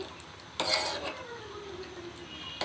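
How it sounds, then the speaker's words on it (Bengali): A utensil stirs a thickening homemade mixed-nut ice cream mixture in a pot with a scraping swirl, bracketed by two sharp clanks of metal against the pot, close and alone. "আরও কিছুক্ষণ এভাবে নাড়তে থাকবো"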